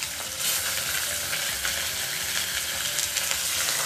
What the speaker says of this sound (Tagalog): Iprito-prito muna natin para yung flavors niya lalabas.